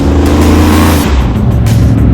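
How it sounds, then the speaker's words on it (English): Loud truck passing close on a country road, a deep engine rumble dropping in pitch as it goes by, heard from inside a moving car. "always a lot of loud trucks out here in the country for sure"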